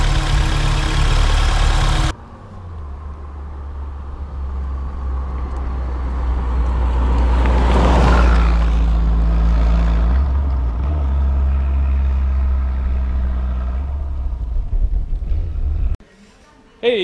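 A 1972 BMW 2002tii engine idles while warming up, a loud, close, steady low rumble that swells briefly mid-clip as revs rise, then settles, with a voice speaking over it.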